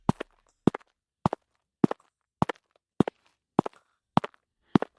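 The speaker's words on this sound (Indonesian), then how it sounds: "Tiba-tiba dari arah lorong kelas terdengar suara langkah kaki." Evenly spaced footsteps click down a school corridor, about nine sharp, distinct heel strikes in a steady walking rhythm against near silence.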